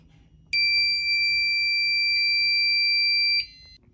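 A Fire-Lite MS-5UD fire alarm control panel sounds a loud, steady electronic alarm tone at system reset, holding for about three seconds before cutting off, with faint room noise before and after.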